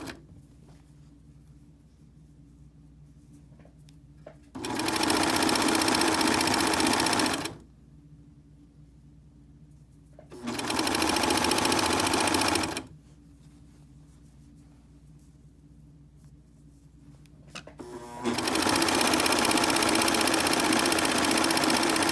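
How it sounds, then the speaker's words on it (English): A sewing machine stitching woven mask fabric for a three-layer pocket mask, running in three steady whirring bursts of a few seconds each, separated by quiet pauses, close and fairly loud. "we're going to sew all the way down to the mask"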